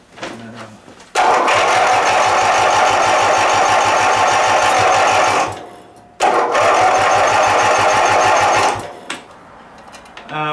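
A riding mower's small engine, fitted with a new Bendix starter drive, is cranked twice; each time it catches and runs loud and close with a fast chugging rhythm for a few seconds before dying away.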